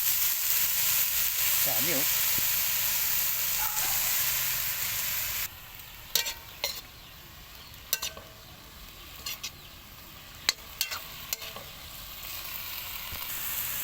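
Banana heart sautéing in a pan with soy sauce, a steady loud sizzle that drops off partway, followed by scattered stirring clinks and scrapes, with brief talk over it.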